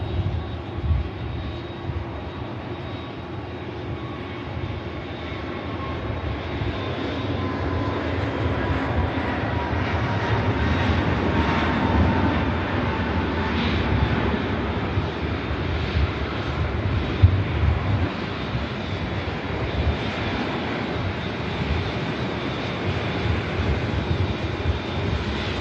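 Airliner engines roar continuously at Manchester Airport, a broad steady rumble that swells slightly mid-way and stays fairly loud throughout, with no voices.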